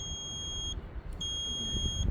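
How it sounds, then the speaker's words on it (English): A multimeter set to ohms gives a continuity beep while testing lawn tractor fuse connections: a steady high electronic tone that breaks off briefly and resumes, clear over low room noise. "you hear the beep. That shows that there's continuity."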